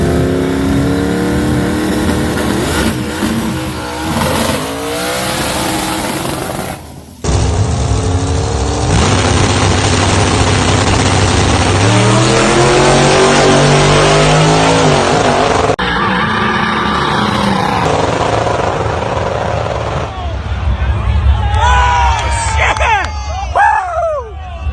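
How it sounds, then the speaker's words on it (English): Methanol-fuelled turbocharged LS car with a 107mm turbo roaring under full throttle in a drag race, loud and continuous with rising and falling revs, shifts, and crowd noise and voices underneath. "that was a drag race"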